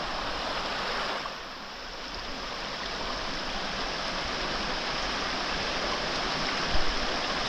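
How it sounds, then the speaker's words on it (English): Anthony Creek flowing steadily nearby, a broad continuous rushing hiss of water over rocks, constant and fairly loud with no talking. "here's a little closer view of the creek itself"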